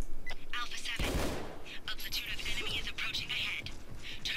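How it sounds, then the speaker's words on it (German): Gunfire from a weapon in the video game Dizzel bursts out as a loud volley of rapid shots, with a voice talking over the in-game noise. "was das für eine Waffe, die ballert"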